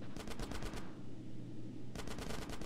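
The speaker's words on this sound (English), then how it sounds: "Get some suppressing fire in there!" Rapid video-game gunfire from GTA San Andreas, two bursts of quick automatic shots separated by a brief lull, loud and close over a steady low background hum.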